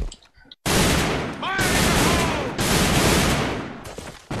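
Heavy automatic HK 416 rifle fire in Rainbow Six Siege, loud close bursts sustained nearly nonstop after a brief quiet opening, with a short pause midway and a voice briefly under the shooting.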